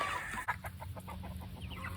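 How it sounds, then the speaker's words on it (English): Meat chickens on a small farm cluck in a steady run of soft, rhythmic notes, close by and continuous over a low background hum, with no talking. "The meat birds are looking great, y'all."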